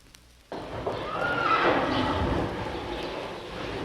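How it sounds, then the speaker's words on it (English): A troop of black cavalry horses whinnies loudly amid a crowd of hooves clip-clopping, the herd sound starting abruptly and staying busy and close throughout. "In front of me, behind me, and in fact all around me, are 136 beautiful black horses."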